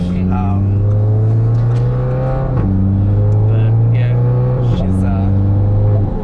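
A modified stage 3 Audi TT rated at 375 kW, fitted with an upgraded intercooler, intake and downpipe exhaust, holds a loud, close, steady engine drone broken by two brief rev blips, with faint voices underneath.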